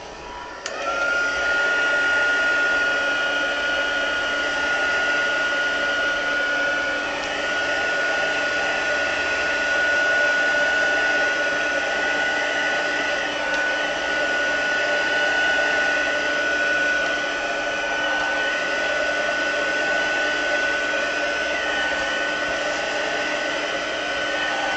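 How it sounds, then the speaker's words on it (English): Craft heat tool blowing hot air during a faux wood-burning paper project, a loud, steady fan whir with a constant high whine that runs unbroken for the whole stretch, close up and without speech. "I'm going to hit this with the heat tool just a little bit."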